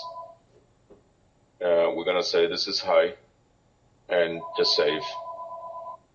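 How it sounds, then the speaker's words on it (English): A phone rings in the background with a thin, steady electronic tone that sounds briefly at the start and again later while someone talks over it. "And that was my phone in the background."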